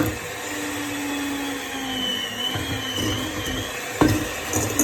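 An electric hand mixer beats butter and sugar for a pineapple upside-down cake, giving a steady close motor whir that shifts pitch slightly as the beaters work, with a brief knock near the end.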